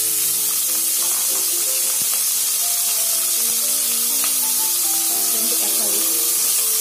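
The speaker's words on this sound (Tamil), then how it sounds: "இப்போ வெங்காயம் தக்காளி வணக்கிக்கலாம்." Sliced onion and tomato softening in a little oil for a tangy tamarind curry with okra, giving a steady broadband sizzle that fills the whole stretch with faint harmonic tones over it.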